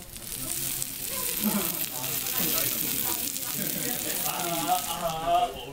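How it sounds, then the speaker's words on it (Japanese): Meat sizzles on a barbecue grill at an outdoor tour stop in Nagatoro, Japan, with a steady, close, crackling hiss and voices talking faintly alongside. "ちょっとお肉焼いてみたいと思います"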